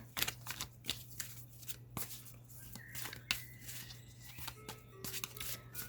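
Tarot cards being shuffled by hand, with a run of crisp riffling snaps and soft slides at close range, one card flipping free of the deck, over a steady low hum.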